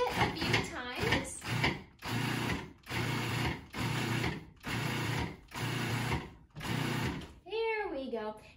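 A food processor pulsing local greens and spices for chimichurri, a series of about seven short loud motor bursts in steady rhythm, ending with a squeaky high warble.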